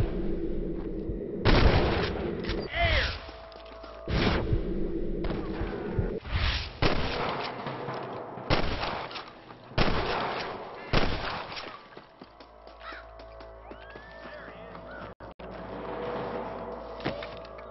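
Gunfire rings out in a gunfight against snipers in the Red Dead Redemption video game. Repeated loud shots and booming blasts fire in irregular bursts over a continuous layer of game noise.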